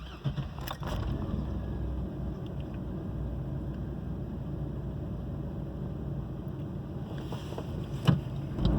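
A 2002 GMC Sonoma pickup's V6 engine, with its service engine soon light on, cranks briefly and catches, settling into a steady low idling rumble that runs throughout, with a small bump near the end.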